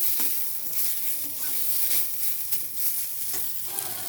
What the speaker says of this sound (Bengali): এবার পেঁয়াজ কুচিগুলো ভেজে নেব।